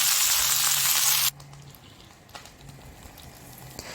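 Garlic and fried chicken sizzle loudly in hot oil in a pan for a Chinese-style chicken pineapple dish. The hiss cuts off abruptly after about a second, leaving a quiet background with faint clinks.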